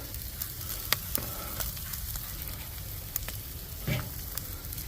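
Chopped cheese meat and bread fry on a griddle with a steady crackling sizzle, punctuated by occasional sharp clicks and scrapes of a spatula.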